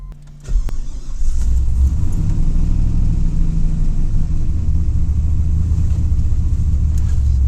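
A third-generation car fitted with an LS engine cranks briefly and catches, then settles into a loud, steady, rumbling idle that runs close by without pause.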